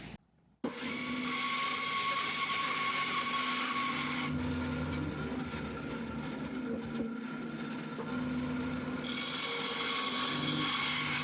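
A power tool cuts the corners off an olive wood bowl blank, starting abruptly after a short silence and then running as a loud, steady, high whine with a shifting pitch midway and no talking.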